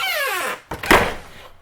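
The entry door of a Jayco Northpoint 381DLQS travel trailer swings shut with a short squeaky sweep followed by a solid close thunk and latch, heard up close.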